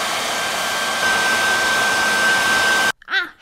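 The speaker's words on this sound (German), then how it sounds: "muss ich sogar meine Wimpernzange erstmal mit einem Föhn anföhnen" A hand-held hair dryer blows steadily on an eyelash curler to heat it, a loud even whirring hiss with a faint whine, which cuts off abruptly near the end.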